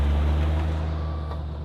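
A heavy recovery truck idles loudly and steadily at close range on a snowy mountain road, with a faint reversing beep barely rising above the low engine rumble as it backs down into position.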